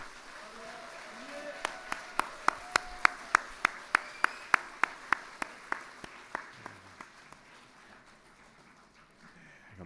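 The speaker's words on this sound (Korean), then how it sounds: "우리 인사하실 때 우리 크게 박수하도록 하겠습니다" A church congregation at a Sunday service claps in unison, a steady series of sharp, evenly spaced claps that slowly weaken and trail off over quiet room ambience.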